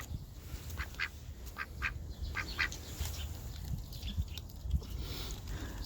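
Several ducks quack in quick, scattered bursts, faint and somewhat distant, over a low outdoor rumble.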